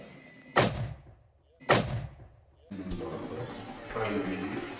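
Two sharp, booming mortar shots fire a second apart, each with a short echoing tail, followed by a steady background rush.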